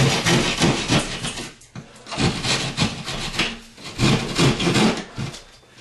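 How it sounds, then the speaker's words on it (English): Sheetrock is sawn along a ceiling joist by hand in steady, rhythmic back-and-forth rasping strokes, close and fairly loud, with a brief pause partway through and no talk. "Now I'm just going to cut along that ceiling joist."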